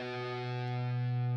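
A single sustained electric guitar note through heavy distortion in Rocksmith rings out, a thick buzzing tone with rich overtones that holds steady for over a second, with no talking.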